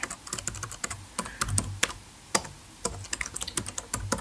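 Steady typing on a computer keyboard, rapid irregular key clicks and heavier thumps of the space bar, close and clear in a quiet room without any talk.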